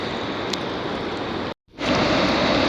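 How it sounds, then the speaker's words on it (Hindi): Steady, dense rain hisses loudly and evenly in the mountains near Khunjerab Pass, with a brief drop-out before the downpour resumes just as heavily. "बारिश ही नहीं रुक रही 2 घंटे से"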